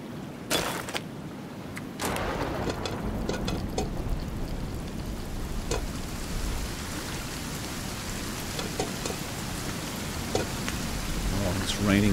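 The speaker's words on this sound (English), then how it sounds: "Raining, that's real good." Steady rain falls in the survival game Sons of the Forest, a continuous broadband patter with a few sharper knocks and clicks near the start, holding at even loudness throughout with no speech.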